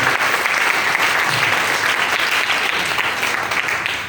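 An audience in Jaipur breaks into vigorous applause for themselves, a loud, dense and continuous roar of clapping lasting several seconds with no talk over it.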